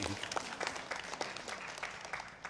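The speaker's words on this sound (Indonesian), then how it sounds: "Jadi tepuk tangan untuk buar ini" A crowd clapping steadily, a brief burst of applause at moderate distance that carries on evenly and begins to fade.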